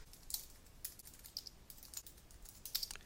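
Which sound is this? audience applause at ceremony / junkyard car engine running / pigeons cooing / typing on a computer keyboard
typing on a computer keyboard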